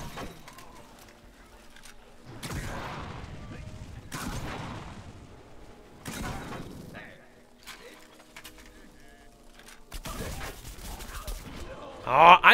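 Weapon fire in the shooter game Plants vs. Zombies Garden Warfare 2 comes in several separate loud bursts of rapid shots, broken by quieter stretches of game sound.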